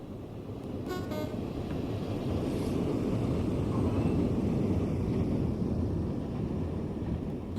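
Class 66 diesel locomotive in a train simulator game, with a brief horn toot at the start followed by a steady rumbling roar that swells as it passes by.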